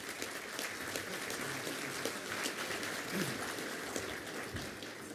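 Audience applause at a hall of fame ceremony, a steady wash of clapping from a large crowd that holds evenly for the full stretch, with no talk over it.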